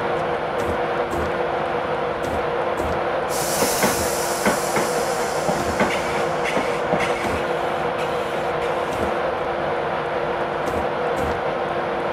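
A Class 91 high-speed train roars past close by, a steady loud rumble with rhythmic clattering of wheels over rail joints and a brief airy hiss partway through.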